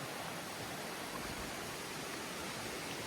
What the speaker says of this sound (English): Here's the river. That'll sound nice going to sleep too tonight.